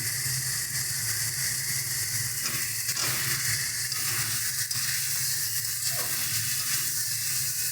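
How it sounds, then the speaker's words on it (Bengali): Pre-fried cauliflower goes into a sizzling rohu fish curry with spices, giving a loud, steady frying hiss with brief stirring scrapes throughout, close up and with no talk. "এবার আমরা আগে থেকে ভেজে রাখা ফুলকপিটা দিয়ে দিচ্ছি"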